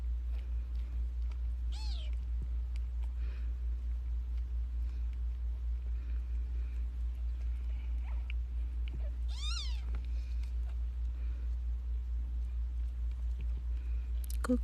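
A newborn premature kitten, born to a rescue cat, gives two faint, thin meows several seconds apart over a constant low hum, with no talking.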